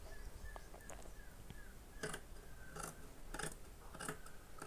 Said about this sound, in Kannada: ಸ್ಟಿಚ್ ಹಾಕಿ ಇವಾಗ ಎಕ್ಸ್ಟ್ರಾ ಕ್ಲಾತ್ನ ಕಟ್ ಮಾಡಿ ತೆಗಿತಿದ್ದೀನಿ